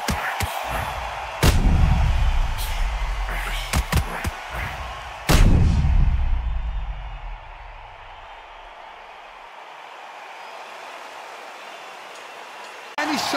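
Heavy booming thuds from a knockout punch in the Undisputed boxing game, replayed in slow motion: several deep impacts with long rumbling decays, loud and close, under a commentator's voice.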